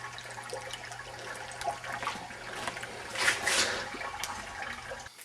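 Fresh apple juice pours and trickles steadily from an old-fashioned cider press packed with ground apples, a continuous watery stream with a brief louder surge partway through, heard close and alone.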